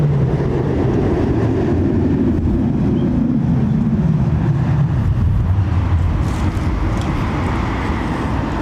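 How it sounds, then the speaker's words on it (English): Aircraft wake vortex passing over near London Heathrow, a low, loud whooshing rumble that slowly sweeps downward in pitch against a steady wind-buffeted background, with faint crackles late on. "Listen for the vortex. We could get a whip crack here as it moves across us."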